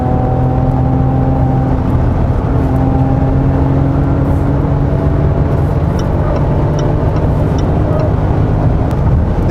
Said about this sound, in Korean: 스포츠 모드로 바꿔서 주행을 해 보겠습니다